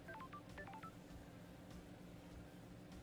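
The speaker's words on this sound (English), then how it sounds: "Is there a phone around here somewhere?" A telephone in the video game Paradise Killer sounds as a quick run of faint electronic tones, like keypad beeps, over a steady low hum.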